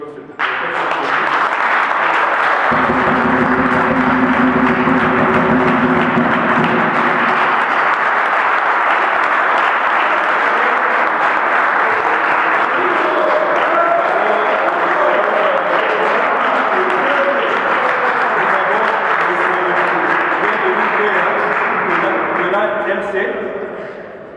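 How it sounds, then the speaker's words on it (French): A crowd at a youth league political rally in South Africa applauds guests from allied parties, a long sustained wash of clapping under a sung or chanted tone early on, fading slightly near the end. "J'aimerais vraiment que la salle puisse applaudir tous nos amis des partis alliés qui sont ici."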